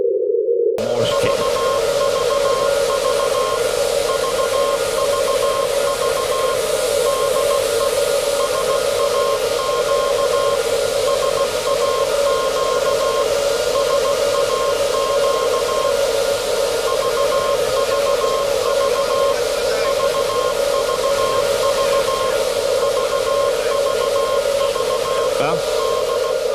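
A long, steady Morse signal from the SAQ Grimeton longwave transmitter, keyed by a Morse key, is received over radio as a sustained tone in constant noise. Brief voices can be heard around it.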